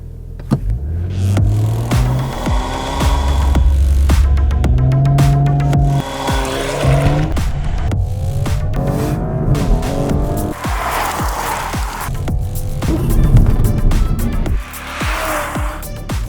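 A 2021 Audi S5 Sportback with an eight-speed ZF automatic accelerates hard from a standstill, engine rising through several gear changes, loud and close from inside the cabin, with brief tyre noise.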